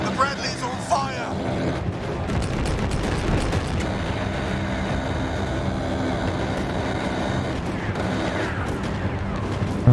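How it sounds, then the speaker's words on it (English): Artillery barrage explosions pound continuously in the video game Mecha Knights Nightmare, dense rumbling blasts and crackling gunfire layered together with a soldier's voice calling out over the din. "Good barrage."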